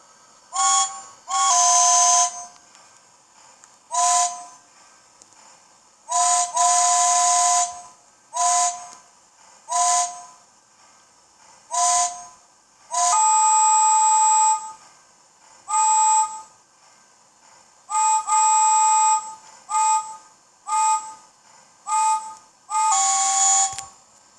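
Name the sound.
Lionel LionChief James toy train whistle sound effect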